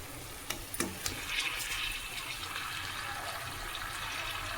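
Fresh water runs and splashes steadily into a vessel to wash cut pieces of small farm-grown eggplant, with a few sharp clinks near the start, and the stream stays continuous and moderately close.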